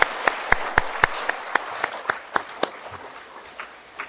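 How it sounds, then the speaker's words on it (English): Sparse applause at a poetry reading at the Bush Library, a few sharp distinct claps standing out near the start before thinning into scattered, fading clapping. "So let's give all those people a big round of applause."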